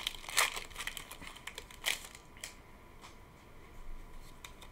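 A Pokemon booster pack wrapper being opened, close crinkling and tearing foil with a few sharp crackles early on, then softer rustles and handling noises, no talking.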